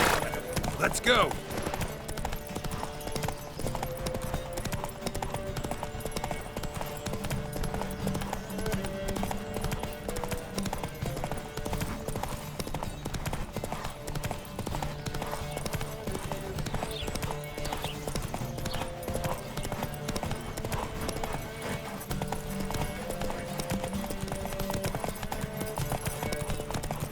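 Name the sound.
horses galloping in a race, from the video game The Witcher 3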